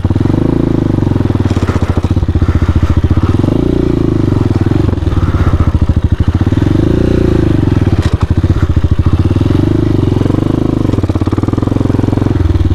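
A Hawk 250 motorcycle engine revving loudly and close on a sandy trail, its rough mid-pitched drone rising and falling in repeated surges with faint clattering as the rider works the throttle.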